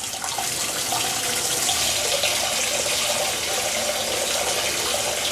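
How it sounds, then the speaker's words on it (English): Cold tap water pours steadily into a bowl holding three cups of rice for onigiri, a loud, continuous rushing fill heard close up with no voices. "put the cold water in the bowl"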